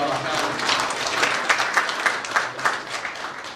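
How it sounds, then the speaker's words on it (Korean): Attendees at a Korean church council's general assembly break into applause in a hall, a steady patter of clapping that grows more accented with distinct sharp claps in its second half. "박수 한번 해주십시다"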